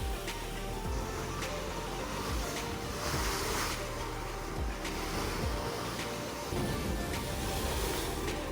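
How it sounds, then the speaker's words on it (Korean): Ocean waves surging into a coastal sinkhole on a western seaside road, a continuous rushing wash with periodic swells and recurring thumps, heard alone without talk. "싱크홀 느낌의 파도 칠 때마다 바닷물을 뱉었다가 삼긴 하는 모습이 인상적이었고 소리랑 파도 움직임에 조금 무섭기도 했습니다."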